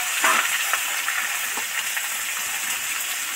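Pointed gourd sizzling in leftover fish-frying oil for a bata fish curry, a steady hiss of frying with soft crackles and pops close by, holding evenly throughout with no talking.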